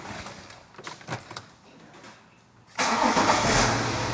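A BMW X5's starter cranks with a few rhythmic whirs, then the engine catches and settles into a loud, steady, smooth idle.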